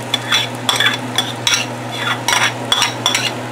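Mashed potato and eggplant being stirred and fried in a pan with peas, tomato and onion for chokha, giving loud rhythmic spatula scrapes in short bursts over a soft sizzle, close up with no talk.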